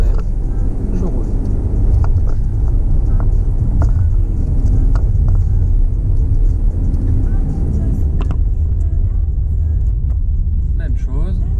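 Car rolling steadily along a road during a driving lesson through a bend, with a constant loud low engine and tyre rumble and no break throughout.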